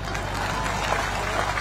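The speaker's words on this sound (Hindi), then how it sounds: "बेलपान में ताली की बजावत" Sustained applause from a crowd at a public announcement event in Belpan, steady and dense throughout without pauses.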